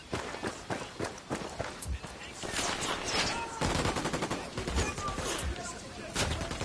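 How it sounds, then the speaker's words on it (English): Heavy automatic gunfire and scattered single shots in the video game Ghost Recon Wildlands, dense and continuous, mixed with running footsteps and voices talking throughout. "I'm opening fire."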